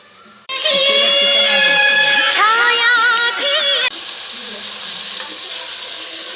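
Green Hyderabadi biryani masala being stirred and fried in a pan, a loud bright sizzle kicking in abruptly with scraping stir strokes, then settling into a quieter steady frying hiss.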